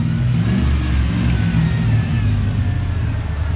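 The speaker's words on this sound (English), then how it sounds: "while he gets that truck started real quick" The engine of a bagged SS clone truck runs close by, with a loud, continuous rumbling roar that stays steady throughout.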